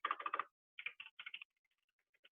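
Rapid keystrokes on a small computer keyboard, three quick bursts followed by a second cluster of taps, then a few faint scattered clicks tailing off; close and fairly quiet, with no talking.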